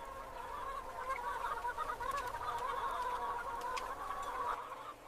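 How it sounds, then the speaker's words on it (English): Broiler chickens cluck in a crowded poultry house, a dense steady chorus of many birds without pause, near and moderately loud. "The flock now fills the entire poultry house."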